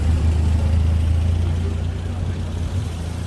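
Street traffic, with a car engine rumbling close by and fading as it passes, a loud low steady drone that eases off toward the end.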